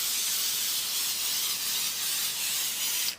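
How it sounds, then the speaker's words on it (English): An aerosol spray can hisses steadily onto quilt batting, one continuous close spray lasting about three seconds before cutting off abruptly. "So I'm going to start by spraying about 10 inches or so."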